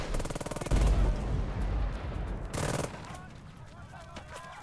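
Rapid bursts of gunfire crackle through a Burden of Command video game battle, with dense rattling volleys, a sharp burst near the start and another midway, then thinner scattered shots fading out.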